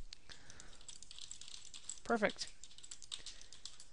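Typing on a computer keyboard during a PHP login and register form entry, with scattered quiet key clicks through the clip and a brief louder burst of keystrokes midway; a voice speaks briefly at the start.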